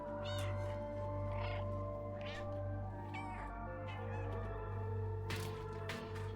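In the video game Stray, a cat gives a string of quick meows, one after another, over a steady low musical hum from the game.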